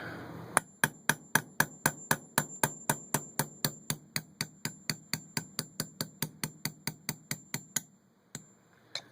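A hammer strikes a punch in a fast, steady rhythm, driving a pin out of an Iver-Johnson 16 gauge single shot shotgun on a punch block, about thirty sharp ringing blows close by, pausing near the end before one final hit.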